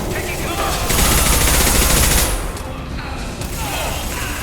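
Rapid bursts of automatic gunfire from a squad firefight in Mass Effect 2 Legendary Edition, a loud dense volley for about two seconds that eases into scattered shots and battle noise.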